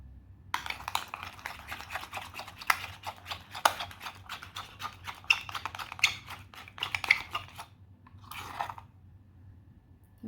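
Thick cone paste being mixed and stirred in a bowl with a spoon, producing a run of soft, close, sticky clicks and scrapes at an irregular pace, then a short pause and a brief final scrape.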